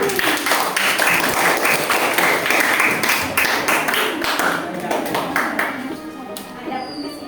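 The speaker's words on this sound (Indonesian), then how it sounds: "Kasih aplaus buat" A classroom audience breaks into applause, a dense burst of many hands clapping near and loud that slowly thins out, with voices talking over it.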